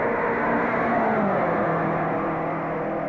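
Vintage Indianapolis 500 race car speeding through a turn at the speedway, a steady, moderately loud engine whine and rush from a distance, no talk.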